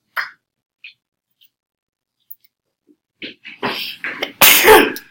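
A sneeze bursts out in a classroom during an algebra lesson, preceded by a few faint sniffs and short breaths, then a loud close sneeze with a brief throat sound at the end.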